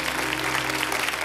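Studio audience applauding a carnival show presenter on an Andalusian carnival program, a steady dense wash of clapping filling the whole moment.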